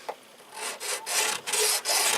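A homemade edger made from a Sawzall blade mounted on plywood scrapes in several short, close, rasping strokes, bright and gritty with brief pauses between them.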